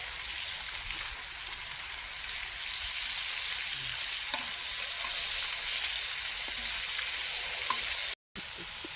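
Meat grilling on a hot pan outdoors in the countryside gives a steady, even crackling sizzle that stays moderately close. A brief dropout near the end breaks it.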